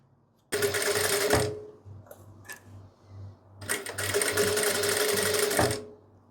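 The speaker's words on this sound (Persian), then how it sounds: "از بالا شروع میکنم، دوباره دوختم رو انجام دادن محکم میکنم" A sewing machine stitches pleats into velvet fabric, running loud and steady in two long, fast-whirring bursts separated by a short pause with a few soft clicks.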